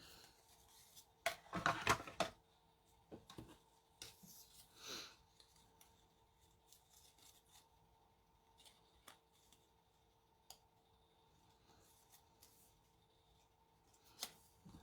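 Scissors snipping out a paper card piece for a Stampin' Up fun fold card, a quick burst of crisp cuts near the start followed by sparse faint clicks and handling in a quiet room.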